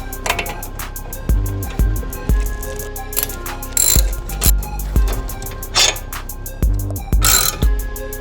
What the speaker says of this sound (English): now I'm going to remove the caliper using the T55 Torx socket